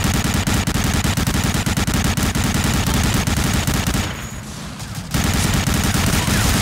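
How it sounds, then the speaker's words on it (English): Rapid automatic gunfire rattles continuously in Medal of Honor: Allied Assault, loud and dense, with a brief lull before the burst resumes at full intensity. "Whoa, who's shooting me?"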